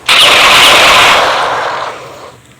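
A single loud, close gunshot in a Filipino action movie, a sharp crack that rolls into a long fading echo over about two seconds, with no talk.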